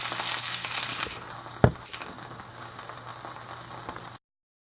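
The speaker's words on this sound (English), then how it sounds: "And then you just want this to sear up." Pork loin sears in a hot pan with a steady broadband sizzle, broken by a sharp clack of the meat or utensil near the middle and a few smaller knocks, then cutting off abruptly; no one speaks.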